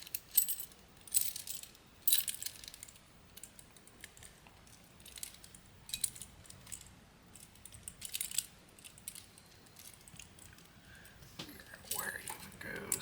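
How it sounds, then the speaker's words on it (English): Metal keys jangling and clinking as they are worked off a key ring, in irregular bursts of small clicks and rattles, close and quiet, with soft speech in between. "we gotta get just a few more keys off of this thing"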